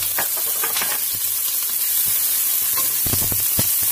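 Browned onions sizzle loudly in a pan as ginger and garlic paste is stirred in, a constant hiss broken by scraping stir strokes, with no talking.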